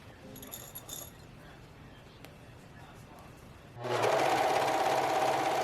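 A sewing machine stitching recycled nylon swimsuit fabric starts after a few seconds of quiet handling and faint clinks, then runs loud, close and steady with a fast even whir.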